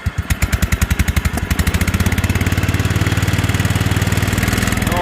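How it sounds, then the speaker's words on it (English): An old tractor engine chugs with slow, separate firing pulses that quickly speed up into a loud, steady, rapid thumping as it runs at full power, close by. "I've got to have the engine on full power."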